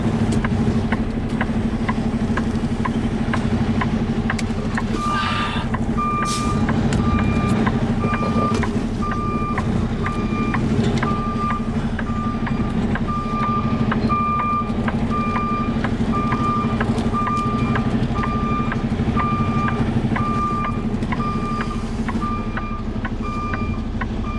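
A truck backing up with its reversing alarm beeping at a steady, even rhythm over the low rumble of the idling engine, continuing for most of the stretch.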